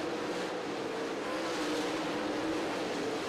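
Dirt late model race cars roaring down the back straightaway at Atomic Speedway in a Lucas Dirt feature, a dense continuous engine roar at steady volume with no voices.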